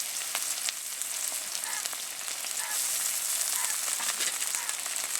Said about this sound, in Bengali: আদা রসুন বাটাটা দিয়েও আমি আবার একটু নেড়ে চেড়ে নিচ্ছি।